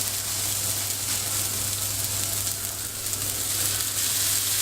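Burger patties sizzle steadily in a scorching-hot cast iron pan, a continuous close, even frying hiss with a low hum underneath and no talking.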